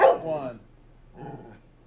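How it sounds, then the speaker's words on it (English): Small dogs bark in a short burst up close, then a quieter second bark follows after a brief pause, with light room noise between. "These little guys bark all the time"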